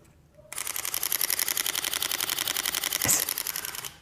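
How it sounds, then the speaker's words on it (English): A Sony A6500 mirrorless camera fires a continuous shutter burst at 11 frames per second, a rapid, even run of close mechanical clicks lasting several seconds before stopping. "One other thing I really liked about it, which I wasn't expecting to, was the continuous shutter."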